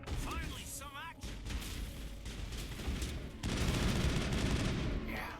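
Assault rifle fire in the Mass Effect video game, bursts of rapid shots and booms crackling through a busy battle mix with electronic warbling effects, growing heavier toward the end.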